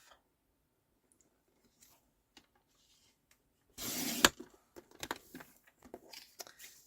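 Scissors cutting through a sheet of stamped cardstock while trimming card pieces, one loud sustained snip close by followed by a few shorter crisp cuts and paper rustles in a quiet room.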